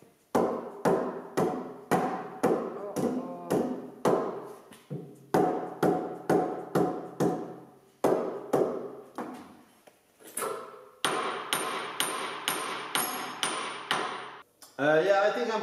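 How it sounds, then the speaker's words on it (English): Heavy hammer blows strike a sandstone mold stuck in a hydraulic press, landing in fast rhythmic bursts of sharp metallic knocks with short pauses between runs, close and loud, followed by grinding and clanking near the end. "We need hammer."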